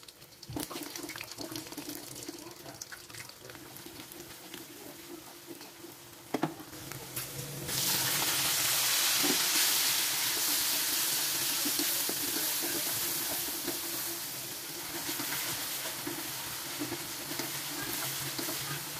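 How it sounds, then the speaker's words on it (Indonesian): Jengkol fries in oil over medium heat, a close, steady sizzle with stirring scrapes that swells into a louder, dense hiss about halfway through and keeps going to the end, with no talking. "Goreng jengkol dengan api sedang sebentar saja."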